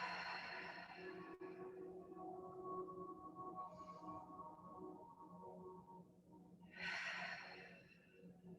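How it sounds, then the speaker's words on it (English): Two deep breaths taken while seated during a gentle stretch class for seniors, each a hushed inhale followed by a slow, airy exhale that trails off, close and soft, with a low hum underneath. "take 2 big breaths here. Slow exhales."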